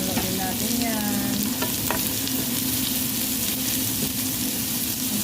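Onions being fried and stirred for chicken biryani, a dense continuous sizzle with occasional scraping stir strokes, close and steady throughout.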